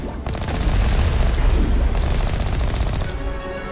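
Rocket blasts and rapid gunfire in the Mass Effect 1 battle against Geth forces near a heavy turret, a dense, loud barrage of booms and shots running continuously for several seconds.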